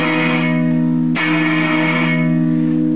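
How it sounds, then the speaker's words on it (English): Distorted guitar chords through a gated reverb effect ring out with a lush, reverberant tail that cuts off abruptly, a second chord starting sharply after about a second. "the gated reverb kind of sounds like reverse anyway"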